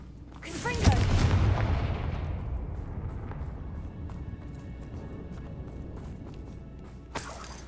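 A Confringo blasting-curse explosion in Hogwarts Legacy hits a bridge with a sudden loud boom, then crumbling debris and rumble fade over several seconds, with a sharp crack near the end.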